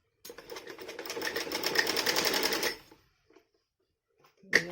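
A sewing machine stitching a seat-cushion piece for a dhoti salwar runs in a steady, fast mechanical whir for about two and a half seconds, then stops, followed by a few faint clicks and a short knock at the end.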